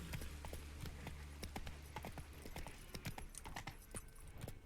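Roach, the horse in The Witcher 3: Wild Hunt, galloping with fast, steady hoofbeats over a low rumbling background, close and continuous.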